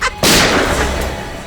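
A single loud, sharp gunshot bursts out close by, then its heavy boom rolls and fades over about a second.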